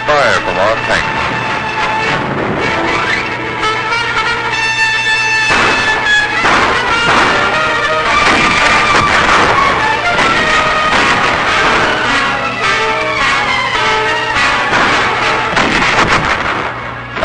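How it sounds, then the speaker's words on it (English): Tank guns fire directly on caves and hillside emplacements on Okinawa in 1945, heavy booming reports under a dense, continuous wartime soundtrack with music and narration running throughout. "Caves and other hillside emplacements receive direct fire from our tanks."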